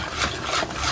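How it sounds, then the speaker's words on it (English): Brisk whisking of carrot pancake batter for ginger carrot pancakes, a steady close rubbing, scraping swirl that runs continuously through the short moment without any voices. "So you whisk."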